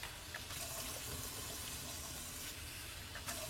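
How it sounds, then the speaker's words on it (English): Tap water runs steadily over drained canned water chestnuts as they are rinsed in a kitchen, a continuous close hiss of flowing water with no voices. "I like to not only drain them, but rinse them."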